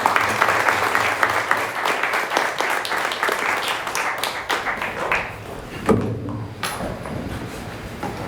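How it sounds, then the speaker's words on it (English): Live audience clapping for a friend at a talk show, a dense steady patter of claps filling most of the stretch, thinning briefly near the end. "So I want to give a round of applause for my friend Naima."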